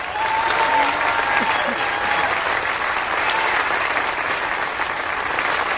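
A crowd at Tampa's outdoor State of the City 2018 gathering applauds the workers and contractors who built the site, a steady, dense wash of clapping throughout.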